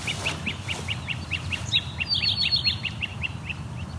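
A great crested flycatcher gives a steady run of short, bright calls, about a dozen and a half evenly spaced notes, fairly close, over a low outdoor rumble.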